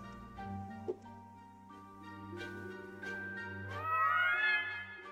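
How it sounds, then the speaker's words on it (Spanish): A cat meows in the video game Delirium, drawn-out plaintive meows rising and wavering, close and clear over a quiet low background hum. "Es un gato."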